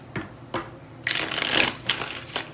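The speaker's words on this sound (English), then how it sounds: "2 more shuffles" Several quick bursts of tarot cards being riffled and shuffled, close up, with a longer continuous shuffle in the middle and no talking.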